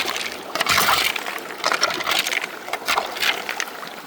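Water rushes and sloshes steadily through the riffles of a gold sluice box in a stream, a close, continuous splashy flow with brief surges.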